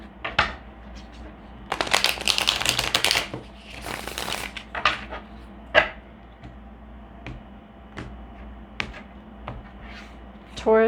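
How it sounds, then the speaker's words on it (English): Tarot cards being shuffled close up: a few quick riffling bursts followed by scattered soft taps and snaps of cards being handled. "I'll do a little shuffle here."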